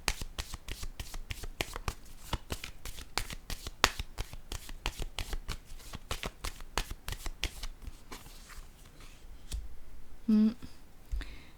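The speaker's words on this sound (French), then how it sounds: "Je vais piger d'autres cartes." Playing cards being shuffled in a fast, crisp run of riffling snaps, close and clear, followed by softer card handling and a few cards being drawn near the end.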